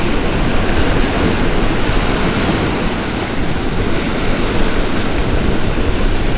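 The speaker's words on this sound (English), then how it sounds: "the waves are not so mighty now" Loud sea surf crashes and rolls continuously on an outgoing tide while strong wind buffets the microphone, a constant roaring wash with no voices.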